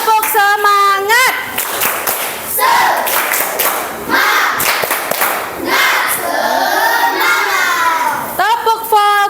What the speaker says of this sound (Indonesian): Boleh tepuk semangat dulu?